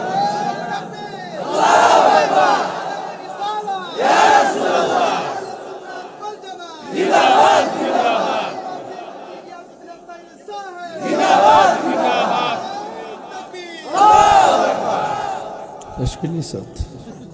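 A crowd at an Islamic waz sermon shouts slogans in five loud, evenly spaced rhythmic bursts, roughly every two and a half seconds, each swelling and then falling back before the next.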